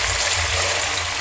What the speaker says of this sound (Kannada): ನೀರು ಹಾಕಿ